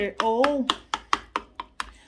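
Fork mashing and chopping avocado for guacamole, a run of sharp, regular taps and squishes against a bowl at close range, with a brief spoken voice at the start.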